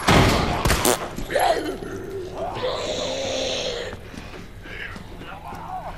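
Gunfire from the Resident Evil 2 video game, a burst of loud sharp shots near the start followed by more scattered blasts, with roaring game noise and a voice talking over it.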